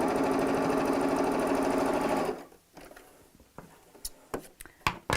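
A sewing machine stitches patchwork bag pieces in a fast, loud, rhythmic run of needle strokes for about two seconds, then stops, leaving scattered light handling clicks and taps.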